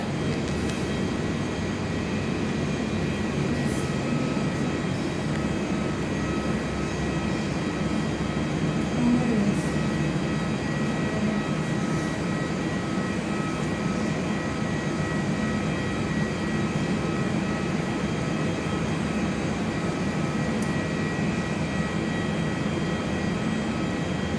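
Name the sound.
Qantas Airbus A321XLR arriving to land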